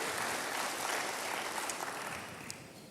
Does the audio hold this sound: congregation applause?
yes